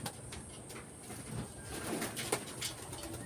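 Soft pigeon cooing comes from close by over a steady outdoor background hum, with a few brief brighter calls.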